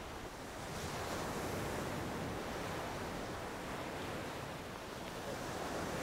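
Winter sea waves breaking among stones along a rocky coast make a continuous broad wash of surf, steady and moderately loud, with some wind noise on the microphone.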